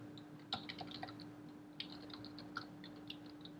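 Typing on a computer keyboard, scattered light key clicks at an irregular pace with a steady background hum, close and fairly quiet, no voices.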